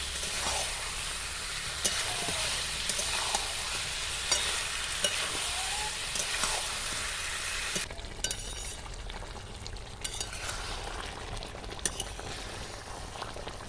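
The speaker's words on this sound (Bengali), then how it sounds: "দিয়ে দেবো ভেজে রাখা মাংস। খুব ভালো করে কষিয়ে নিতে হবে।" Fried chicken pieces for chilli chicken are stirred in a hot pan: a steady, close sizzle runs throughout, with occasional scraping and clinking strokes of the spoon against the pan.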